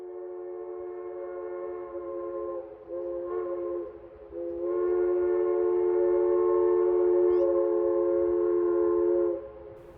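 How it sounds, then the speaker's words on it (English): A Rio Grande narrow-gauge steam locomotive's whistle blows in long steady blasts as the train departs, loud and multi-tone, breaking briefly and then holding for several seconds before cutting off. "I went back up north to watch the first scheduled train head back into town"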